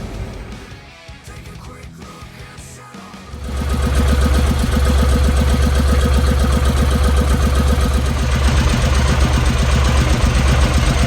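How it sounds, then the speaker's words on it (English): A sports tractor engine runs quietly with faint rustling at first, then opens up into a loud, steady, low chugging drone that continues while driving, close and unbroken, with no talk. "I'm taking the sports tractor down to the village"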